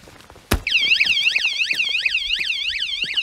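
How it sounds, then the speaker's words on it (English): After a sharp knock on a Yamaha FZ-07 (MT-07) motorcycle, a loud warbling electronic alarm starts and keeps sounding steadily, rising and falling in a rapid repeating pattern. "the alarm stays on until you use the key fob to turn it off"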